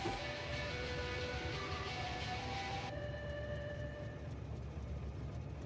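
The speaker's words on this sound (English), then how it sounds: "Oh yeah, that's from the train." A train rolls along in the factory-building game Factorio, a soft rumbling mix of wheel and machinery noise with thin tonal whines, fairly quiet, with the higher sounds dropping away partway through.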